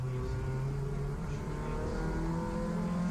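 Tin-top touring cars such as a Peugeot 205 GTi, Honda Civic and Citroen Saxo race at Brands Hatch, with several engines droning and revving together in a steady mechanical roar that never breaks.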